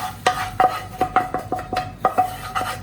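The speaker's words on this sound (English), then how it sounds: "Now we add tomatoes in this dal." Cooked tomatoes go into a pot of dal makhani with repeated metal spoon clinks and scrapes against the pot, a brisk irregular series of sharp knocks, close and clear, no talk.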